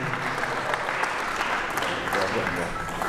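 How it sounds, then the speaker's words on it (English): A crowd applauds at an awards ceremony, a Tribal Showcase Awards presentation, in a steady dense wash of clapping that fills the whole stretch at an even level, with a faint voice or two under it. "A round of applause for the Geezers Club as well."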